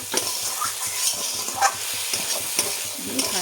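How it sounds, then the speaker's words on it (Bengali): Peanuts stirred in a frying pan while cooking a kalmi greens dish with poppy seeds, a steady sizzle with scraping strokes repeating through the whole stretch, close and moderately loud. "এটাকেও আমি ভালোভাবে একটু নাড়ানাড়ি করে নেব।"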